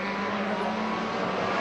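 Race cars at the 1987 Bathurst race in wet conditions, a Nissan Skyline closing on a Nissan Gazelle, produce a steady, loud, sustained engine roar with a constant hum and no pauses.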